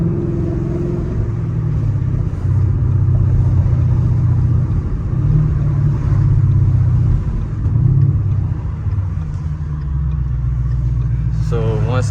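A Ford Mustang GT V8 pulling into a gas station, its engine a loud, steady low rumble with slight swells in revs, heard from inside the car.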